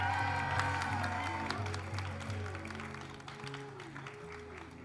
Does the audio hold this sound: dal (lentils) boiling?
no